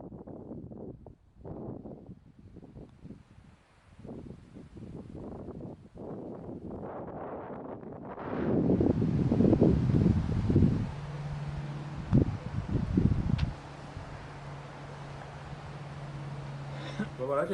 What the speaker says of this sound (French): Désolé pour le vent